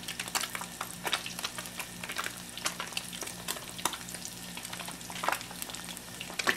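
Panfish fillets such as bluegill, crappie and perch pan-frying in oil, a steady close crackling sizzle with scattered sharp pops throughout.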